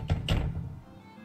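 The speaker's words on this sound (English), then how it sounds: "Apparently we only get to hear the banging of a door." Two quick, hollow thuds of a door banging in a detective video game, close and muffled, followed by a brief fading resonance and quiet.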